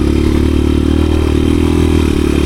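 A 1986 Honda XR200R dirt bike being ridden after an idle problem was fixed, its engine droning steadily and loud up close with a rattly, clattering mechanical edge.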